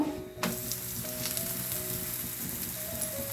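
A thin roti made with drumstick leaves (nugge soppu) and onion greens sizzles steadily in oil on a pan. The frying is close and continuous, with a sharp onset and faint crackles throughout.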